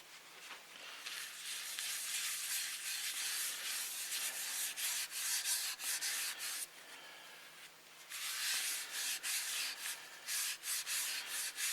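A paper towel rubbed back and forth over wood to work in a Nova Silk food-safe finish, giving a close, steady scratchy hiss in repeated strokes with a short pause midway.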